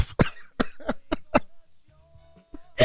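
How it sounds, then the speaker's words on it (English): A cough from someone speaking at a city council meeting on a sound ordinance: several sharp, close coughs in quick succession, then a short pause before another cough, with no speech around them. "I'm about to cough."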